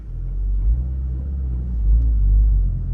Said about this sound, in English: I tap the throttle a bit while I'm releasing the clutch